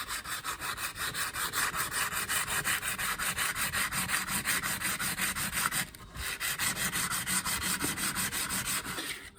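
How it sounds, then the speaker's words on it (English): Hand sanding with folded 220 grit sandpaper on the wood and metal ends of a resonator cigar box guitar, a steady rhythmic rasping of quick back-and-forth strokes, close and continuous with one brief pause. "I like this 220 grit sandpaper for getting these ends nice and smooth"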